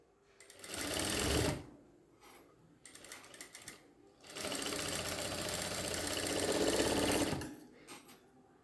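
Sewing machine stitching the hem of a saree, running in two sustained bursts with a short pause and a few light mechanical clicks between them, close and fairly quiet.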